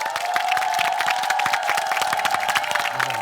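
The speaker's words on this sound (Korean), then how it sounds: "다시 한번 큰 박수 부탁드립니다" A studio audience on a Korean variety show bursts into applause mixed with cheering, many hands clapping at once under a sustained tone, with scattered shouts rising through it.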